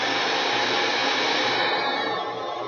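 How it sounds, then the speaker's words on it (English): A hair dryer blows steadily and close by for nearly three seconds, a dense continuous airy whoosh with motor whine used to warm applied nail wraps, with no speech. "Another thing is just take the hair dryer,"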